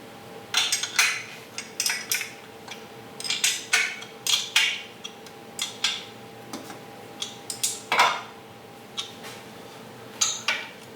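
Metal tools clink and rattle as a 9/16 wrench is picked out from among them, a string of sharp, bright metallic clanks and taps at an irregular pace, close and fairly loud, with no talking.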